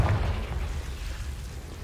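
A Confringo blasting spell bursts in the Hogwarts Legacy video game, a loud low boom at the start that rolls off into a rumbling decay over under two seconds, with no talk.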